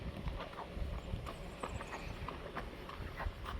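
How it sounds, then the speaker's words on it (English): Hooves of a black horse clip-clop on a hard surface in a quick, steady rhythm, soft and somewhat distant, with low background rumble and no talking. "Beautiful black pretty horse."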